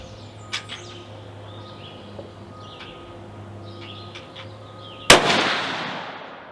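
A single loud gunshot from a Savage 400 Legend rifle cracks outdoors near the end, a sharp blast trailing off in a rolling echo, after quiet moments with faint birdsong.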